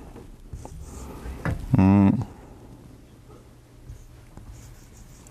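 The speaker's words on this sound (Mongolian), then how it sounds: "за энэ нэг ийм үг бичиж л дээ" A word is written by hand, with one short, squeaky stroke standing out near the middle and fainter scratches around it in an otherwise quiet room.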